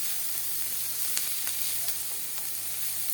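Onions and peppers sautéing in leftover oil in a pan, a steady close hiss of frying with a few faint stirring clicks and no talk.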